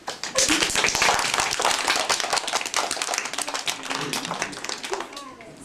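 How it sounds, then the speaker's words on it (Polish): An audience claps steadily before a children's stage performance of the fairy tale Cinderella, a dense burst of many hands that starts loud and fades slightly over several seconds, with no talk over it. "Poproszę o klaski."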